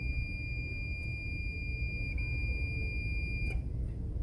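A multimeter's continuity buzzer sounds while probing the thermistor of a Black & Decker Quick Press iron, model AS75: a steady, high-pitched electronic tone holds unbroken throughout, close by, over a low background hiss.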